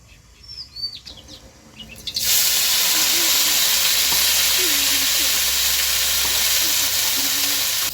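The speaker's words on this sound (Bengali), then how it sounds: "হেলাঞ্চা শাক ভাজার জন্য আর একটু কড়াই সরষের তেল দিয়ে দেব" Hot mustard oil in a wok, ready for frying helencha greens, bursts into a loud, steady sizzle that lasts to the end. Faint bird chirps come before it and carry on underneath.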